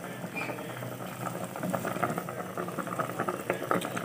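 A pot of fish soup, tinola-style with fish and moringa leaves, bubbles at a close, rolling boil with dense gurgling pops that grow slightly livelier partway through, and no one talking.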